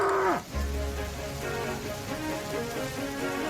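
Rain falls steadily on a countryside railway, a soft continuous patter under a faint whistle at the start and the low hum of a tank engine carefully chuffing along.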